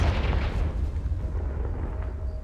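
The Confringo fire spell in the video game Hogwarts Legacy hits with a deep, rumbling explosive blast that holds on as a dense low roar and slowly fades, with no voices.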